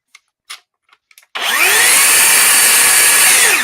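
Ridgid brushless hammer drill powered by a 5.0 Ah battery, a few faint clicks and then a loud, steady whine as the motor spins up and runs continuously at close range.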